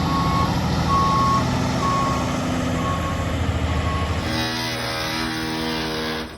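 A construction vehicle on a school campus sounds its reversing alarm in a steady run of loud, evenly spaced beeps, with a rumbling engine underneath and a second, different-pitched beeper taking over near the end.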